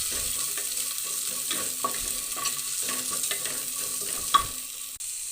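A large onion sautéing in a pan, with a steady soft sizzle and intermittent scraping strokes from stirring, plus one brief sharper clink near the end.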